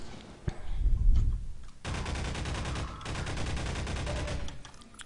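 Sustained rapid gunfire from a weapon in the video game Half-Life 2, loud and dense, with repeated bursts and shots running almost continuously after a brief opening volley.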